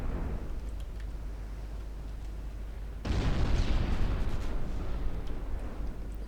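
Naval gunfire from a cruiser's secondary guns in the naval warship game Ultimate Admiral Dreadnoughts: steady low rumbling background, then a sudden heavier, louder burst of booming fire halfway through that continues to the end.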